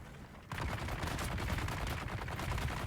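Rapid bursts of machine gun and rifle fire from enemies in the video game Dune Awakening crackle densely and continuously, starting abruptly after a brief quieter moment and staying loud throughout.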